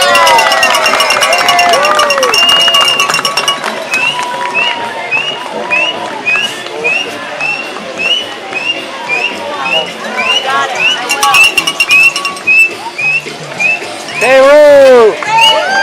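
A crowd cheers and claps at the Parade of Flags during Cleveland's One World Day, with whoops and applause rising around a loud announcer's voice and lively babble throughout.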